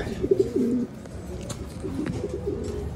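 A pigeon coos softly nearby, a short run of low, throaty notes over faint outdoor background noise.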